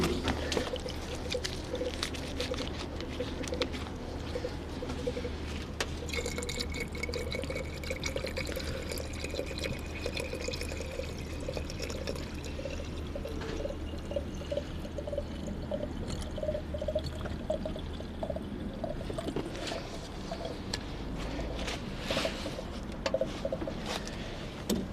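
Coolant pours steadily into the cooling system of a Peugeot engine, a continuous low liquid gurgle and splash that runs unbroken for the whole stretch, with no talking.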